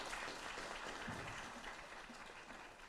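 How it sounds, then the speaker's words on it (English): An audience at a formal Botswana partnership ceremony gives faint, steady applause that fills the whole moment at a distance, with no voices over it. "Let's give her a round of applause"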